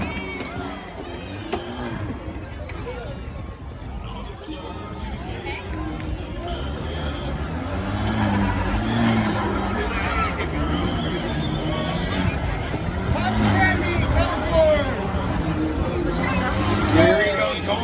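A monster truck engine runs and roars in a Monster Jam arena, its noise rumbling far off under a loud crowd and the hubbub of a commentator's voice that grows louder toward the end.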